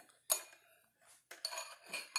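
A utensil stirring homemade hand sanitizer in a dish, making close, quick clinks and scraping taps against the container in short, irregular bursts.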